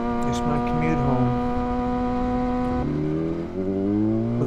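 A sportbike motorcycle's engine on a commute home drones loudly and steadily at high revs, then the pitch drops and shifts partway through, with wind noise around it.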